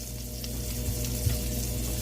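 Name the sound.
garlic Parmesan butter melting and sizzling in pan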